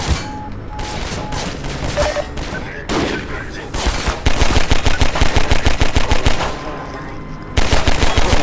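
Rapid pistol fire in the Half-Life Overcharged mod video game rings out as dense, fast bursts of loud shots. Steady rhythmic volleys dominate the second half, with brief pauses between strings of fire.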